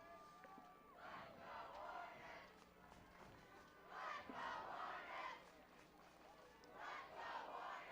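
Crowd noise rising in repeated swells at a high school football game between Scranton and Honesdale, a broad roar of voices and cheers building around a third-down play, with announcer talk running over it.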